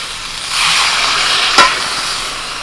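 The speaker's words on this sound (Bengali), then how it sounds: "এবার এর মধ্যে জল দিয়ে দিচ্ছি।" Fried ridge gourd and potato hiss and sizzle as water is poured into the pan, the steam rising in a steady rush with a brief sharp crackle partway through.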